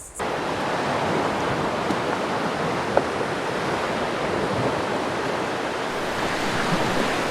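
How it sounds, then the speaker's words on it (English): Steady roar of ocean surf breaking along a long open beach, a continuous wash of wave noise with some wind, heard without any voices. "This beach is endless."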